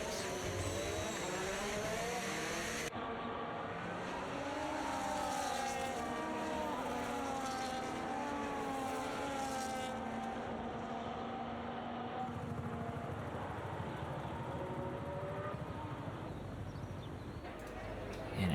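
Formula 1 cars from F1 25 idling on the grid before a race start, a steady engine drone with rising and falling revving tones throughout, under continuous commentary.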